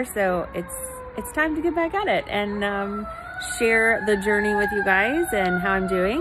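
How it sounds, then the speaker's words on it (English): An emergency vehicle siren wails past outside, its rising and falling tones running steadily beneath someone talking indoors. "I'm sorry for the siren, decided to go by just at the time I pushed the button."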